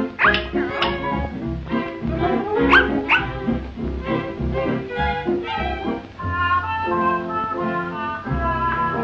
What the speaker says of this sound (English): Get away from my dog!